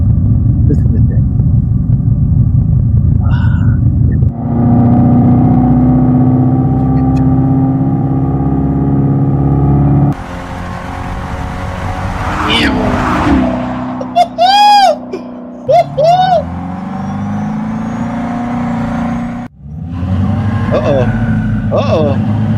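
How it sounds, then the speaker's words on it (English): A Dodge Charger EV's simulated Hemi-style engine sound rumbles and revs loudly close by, with rising and falling whines during acceleration, while someone talks over it. "That is the Dodge Charger, the EV model."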